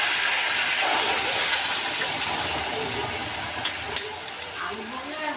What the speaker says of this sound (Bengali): তেলের মধ্যে দিয়ে দিচ্ছি কচু পাতার পেস্টিংটা।